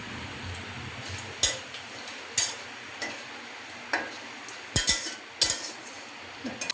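Dried red chilies, a bay leaf and a little cumin tempering in a pan for Bengali rohu fish curry, stirred with a metal spoon; sharp scattered clinks against the pan over a faint low sizzle, with no voices.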